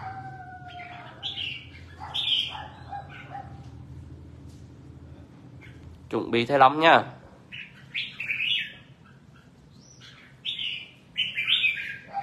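Songbirds kept for sale chirp and tweet in short bright bursts, fairly near, with a louder burst midway, under someone talking.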